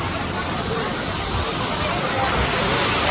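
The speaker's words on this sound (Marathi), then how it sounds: "तर आता हे बघा इथे आम्ही धबधब्यावरती येतो" Waterfall at Lohagad during a monsoon trek, a broad steady rushing roar of falling water with a crowd of visitors babbling faintly beneath it, continuous and close.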